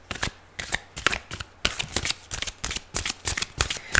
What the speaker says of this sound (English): I also incorporate the shuffling, how the shuffling feels into this reading